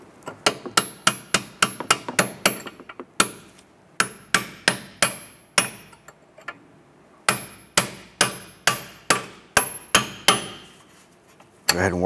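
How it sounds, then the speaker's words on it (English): A hammer strikes a punch to drive out a front strut bolt on a 2006–2013 Chevy Impala, delivering loud, sharp metallic blows in rapid clusters separated by short pauses. "I want to go ahead and use a punch on our lower bolt here."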